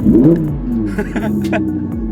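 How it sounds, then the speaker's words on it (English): An Audi R8 engine gives a short rising rev, loud and close, with voices talking over it throughout. "Give it a little rev."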